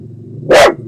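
A house dog gives one loud, sharp bark indoors, set off by neighbouring dogs, rising over a low steady room hum.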